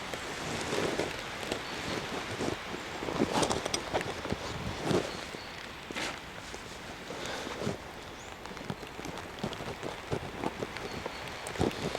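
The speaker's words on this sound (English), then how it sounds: "So the wind's coming facing at me at the minute." Gusty wind buffets the microphone outdoors at a site where a Helsport Fonnfjell 2 tent is being pitched, a continuous rushing roar with irregular louder bursts and no talk.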